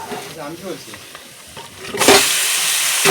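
Meat is tipped into a pan of fried spice masala for a papaya-and-meat curry, first some stirring and scraping, then a loud sudden sizzle that flares up and holds steady to the end.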